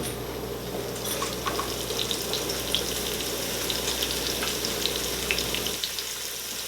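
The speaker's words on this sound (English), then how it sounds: "our oil is coming up to temp, so we're going to go ahead and we're going to start cooking our potatoes." Potatoes frying in hot oil in a kitchen pan, a loud steady sizzle with crackling pops throughout, dropping slightly toward the end.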